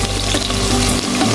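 Ginger paste hitting hot oil for khichdi, a dense, loud hissing sizzle close up for a short moment, with no talking.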